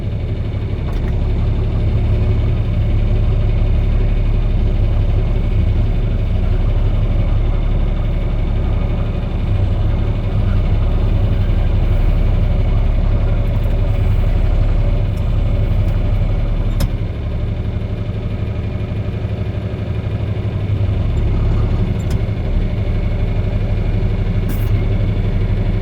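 A machine engine idles in first gear (A1) with a constant, loud, low rumbling drone that holds steady throughout, nearby and with no talking.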